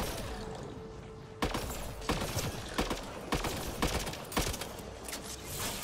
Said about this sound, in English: this thing is a really nice rifle.